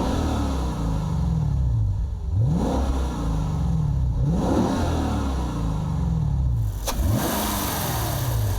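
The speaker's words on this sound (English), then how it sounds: "A V8 engine churning out 351 kilowatts and a maximum 530 Newton meters" A Lexus RC F's deep V8 engine revs repeatedly, rising and falling in pitch through several throttle blips, loud and close over a rumbling idle.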